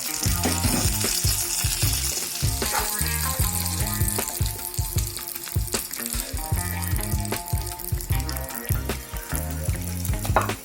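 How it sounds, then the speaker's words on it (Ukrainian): Minced meat fries under a lid on low heat, a constant close sizzling hiss with soft irregular pops and crackles running unbroken for the whole stretch. "Накриваємо все кришечкою, жаримо на маленькому вогні до 10 хвилин."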